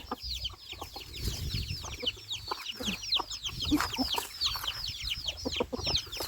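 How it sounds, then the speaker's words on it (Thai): Chickens and ducks cluck and chatter continuously at a fairly low level, with overlapping calls and a few sharper squawks throughout. "มันเป็ดไก่นี่"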